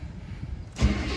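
A 1977 Chevrolet C10 pickup with a 454 V8 fitted with Holley Sniper 2 EFI starts to turn over: quiet idle hum for most of the moment, then a loud burst of engine cranking and catching near the end.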